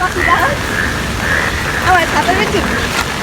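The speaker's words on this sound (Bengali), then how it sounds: "এত পরিমাণে বৃষ্টি হচ্ছে" Steady, dense rain from a cyclone hisses continuously, with faint voices and scattered chirps underneath.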